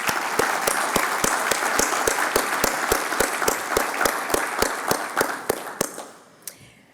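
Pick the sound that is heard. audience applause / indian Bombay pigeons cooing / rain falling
audience applause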